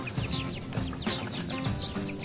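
Aseel chickens and their chicks clucking in a backyard, repeated close clucks and soft calls over a low murmur of hens, with brief high chick peeps scattered through.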